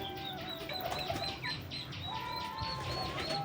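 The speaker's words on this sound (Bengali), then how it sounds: "সবকটা শয়তান পায়রাগুলো চলে এসছে" Pigeons arriving among chickens in a backyard pen: soft clucks and coos mix with faint chirps at a moderate distance over a constant background hiss.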